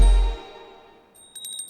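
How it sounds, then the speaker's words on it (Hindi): A single prayer bell rings once with a clear ringing tone that decays over about a second, followed by a faint jingling tinkle. "सुनो बेटा, जरा घंटी बजाओ ना।"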